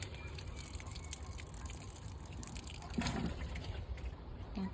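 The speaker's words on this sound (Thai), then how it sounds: "ให้น้ำน้องกล้วยกันค่ะ" Water trickling and splashing from a watering can onto a variegated banana plant in a garden in England, a faint steady pour with a few soft drips and little else around it.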